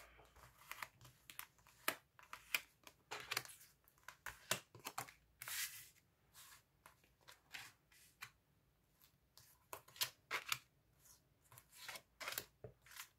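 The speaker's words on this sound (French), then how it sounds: "Alors, je vais étaler les cartes." Tarot cards being spread out across a table, a quick series of soft papery slaps, slides and crinkles in an uneven rhythm, close and fairly quiet with no voices.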